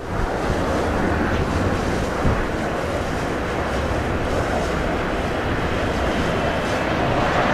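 A loud, constant roar of strong wind buffeting the microphone, dense and unbroken throughout.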